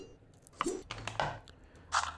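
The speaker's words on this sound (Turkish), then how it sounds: "Makarnamızı doğrama işlemine götürelim." Pasta being chopped in the Toca Kitchen 2 mobile cooking game: a few crisp, separate knife chops spaced unevenly over a couple of seconds, fairly quiet with a faint background.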